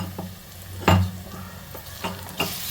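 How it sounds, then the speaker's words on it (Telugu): Ginger garlic paste sizzles as it drops into hot oil for mutton keema, a loud burst near the start followed by a few softer scraping stirs, with a low steady hum underneath. "అల్లం వెల్లిగడ్డ పేస్ట్ వేస్తున్నాను"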